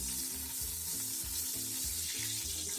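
Oil in a large pot for chicken biryani sizzles in a loud, continuous hiss alongside a steady low background drone, with no talking.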